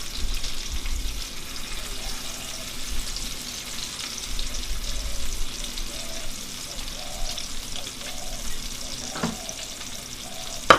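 Bacon and sausage fry in a pan with a steady close sizzle, joined by soft scraping and stirring and a brief clatter near the end, with no one talking.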